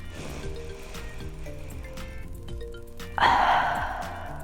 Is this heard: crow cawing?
no